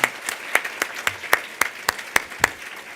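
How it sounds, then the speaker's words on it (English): An audience at a Phi Beta Kappa university ceremony applauds with sparse, separate hand claps, each clap a sharp and fairly close burst spaced evenly across the few seconds. "So a round of applause."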